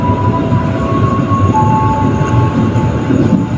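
Rumble and rattle from inside the KA Progo passenger train running past a small station between Jakarta and Jogja. The roar is loud and continuous, with a faint high whine of the wheels and no voices.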